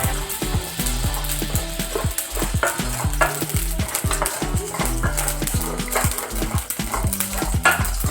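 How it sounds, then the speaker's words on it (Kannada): Ingredients for green chicken gravy frying in a pan on a gas stove, a continuous sizzle broken by rhythmic scraping and stirring of a utensil against the pan, close and loud throughout. "ಇವಾಗ ನಾನು ಇದನ್ನು ಫ್ರೈ ಮಾಡ್ಕೊಳ್ತಾ ಇದ್ದೇನೆ."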